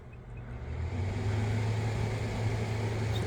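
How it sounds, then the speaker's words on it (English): An RV air conditioner in a hot desert summer setting starts up and settles into a steady, loud broadband whir with a low droning hum, with no talk over it. "I'm gonna go ahead and turn on the air conditioner."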